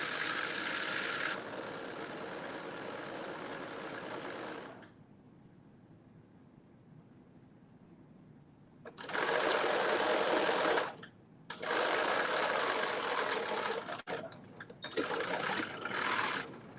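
Sewing machine stitching suit lapel pieces in a bodice sewing project, a steady close motor whir for several seconds, a pause, then two more long bursts of stitching with a brief stop between them.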